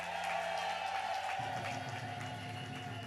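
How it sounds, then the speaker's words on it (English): Audience applause at a public event where the governor announces a plan to raise fast food workers' minimum wage; broad steady clapping fills the whole stretch, with a few faint voices and a low hum underneath. "Let's give her a round of applause."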